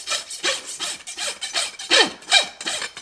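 A farrier's rasp filing the hoof wall of an eventing horse during shoeing: about ten rhythmic, scraping strokes in quick succession, close and crisp, with no voices.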